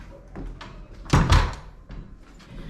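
An old door in an abandoned Victorian house swings shut with a loud thump and rattle near the middle, surrounded by faint shuffling and handling noise at close range.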